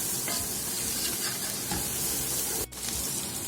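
Dry spices and tomato paste frying in oil for a black chana curry, a steady close sizzle with stirring scrapes, a brief pause near the end, and no talking.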